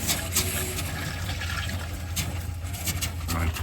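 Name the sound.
compressed air blowing water out of camper plumbing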